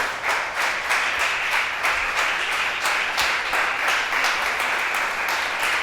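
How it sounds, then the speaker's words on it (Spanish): Congregation clapping loudly in rhythm at a Spanish-language church service, a steady run of sharp claps close and sustained with no voices over it. "Fuerte el aplauso al Señor"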